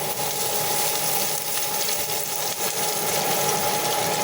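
Oil sizzles steadily in a pan holding chopped onion and garlic for a papaya and potato stir-fry, a continuous, fairly loud hiss with no pauses and no voices.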